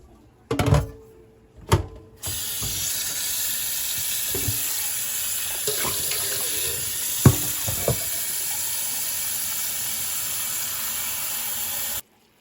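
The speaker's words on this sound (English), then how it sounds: "we're gonna take this pot and add water to it" After a couple of clunks, water runs steadily into a metal pot with occasional knocks and clinks, close by, then shuts off abruptly.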